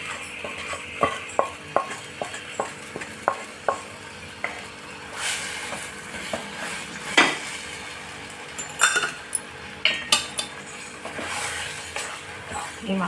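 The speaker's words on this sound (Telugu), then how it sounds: "ఇప్పుడు ఇందులోకి మనము వేయించి పెట్టుకున్న చికెన్ కలిపేద్దామండి" Fried chicken pieces stirred into a masala in a pan for butter chicken, with repeated scraping clinks of a spoon against the pan over a soft sizzle, close and fairly quiet.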